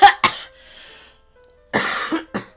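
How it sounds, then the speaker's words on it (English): Someone coughs in sharp bursts right at the microphone after a fit of laughter, two quick coughs, a pause, then a rougher cluster of coughs. "I started laughing and then coughing"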